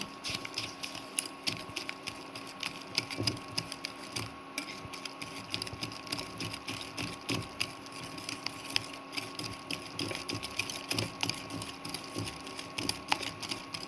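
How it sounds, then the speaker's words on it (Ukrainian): Quiet, rapid ticking and clattering of a whisk beating eggs in a bowl, a steady irregular rhythm of small scraping taps. "І підбиваю добре вінчиком."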